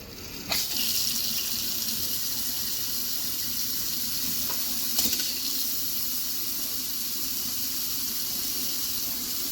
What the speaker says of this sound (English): So now we're going to turn on the faucet.